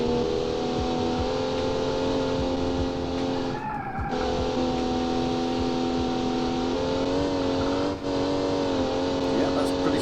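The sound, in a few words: car engine driving in Automation video game road test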